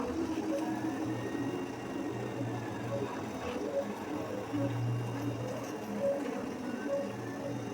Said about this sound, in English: You see the top view of 3D printer